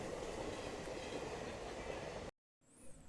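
Train rumbling past a railway level crossing near Chirala, a loud steady roar of wheels and carriages for about two seconds that cuts off abruptly, followed by faint quieter ambience.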